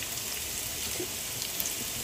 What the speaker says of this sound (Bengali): আমি এখন এতে দিয়ে দিচ্ছি একটু পেঁয়াজ কুচি।